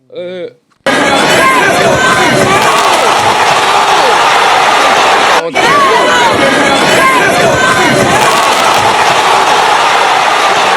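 Loud, dense crowd roar reacting to a Jake Paul boxing knockout, a sustained wall of cheering and shouting after a brief voice at the start, with a momentary dropout midway.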